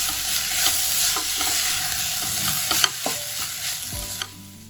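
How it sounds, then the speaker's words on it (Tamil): A spoon stirs cabbage fry with green gram dal in a hot pan, scraping and clinking steadily over a continuous close sizzle of frying, with a few sharper knocks near the end. "சேர்த்துட்டு ஒரு 2 நிமிஷம் கலந்து விட்டு இறக்கிடலாம்."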